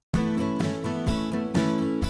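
Drum track sped up to 127 BPM, with a steady beat of kick and snare hits about every half second under sustained tonal backing. Loud and close, with no voices.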